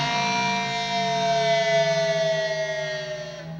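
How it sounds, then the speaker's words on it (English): A lead electric guitar sustains a long, wide string bend with a held, siren-like tone rich in harmonics, ringing loud and alone before fading slightly at the end. "when you work up to a moment like that and you get into a bend that's huge like that,"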